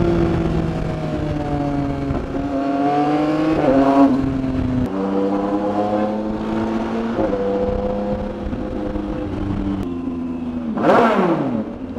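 A Yamaha Tracer 9 GT crossplane three-cylinder motorcycle engine hums steadily while riding home through traffic, its pitch climbing and falling through the gears, with a sharp rev surge near the end.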